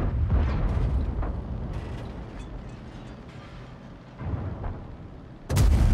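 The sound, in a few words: tank cannon firing in a video game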